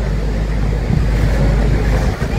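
Waves of the Cantabrian Sea wash onto a sandy Santander shore at low tide, a steady close roar of surf mixed with wind rumble and no voices.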